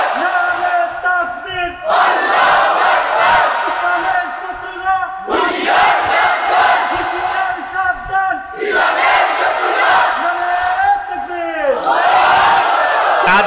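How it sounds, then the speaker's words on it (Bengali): Large crowd at an outdoor religious gathering (waz) in Sylhet roaring a Nara-e-Takbir chant in three loud, sustained swells of massed voices, each lasting a few seconds with brief gaps between. "ময়দান কাঁপানো একটা নারায়ে তাকবীরের আওয়াজ দেন"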